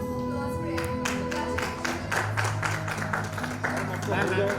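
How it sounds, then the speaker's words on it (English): An audience applauds at an awards ceremony, a steady patter of many hands clapping over a low background hum, with a voice talking through it. "let's have a round of applause for everyone"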